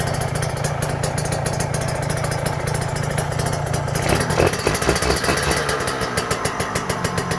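A Kawasaki Ninja 150 two-stroke engine, freshly rebuilt, idles steadily and smoothly up close, a continuous even running hum with a brief rise in the middle and no other sounds.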